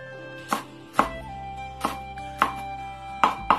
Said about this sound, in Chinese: 再分别把青红辣椒切成辣椒段儿